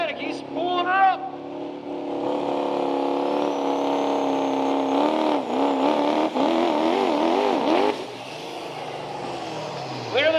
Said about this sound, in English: Ben Abbey on the Charismatic Killer Duramax